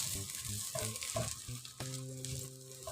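Polao rice fries in a pan with green chillies, a soft sizzle with light stirring scrapes, while a tonal hum runs underneath and a voice speaks briefly.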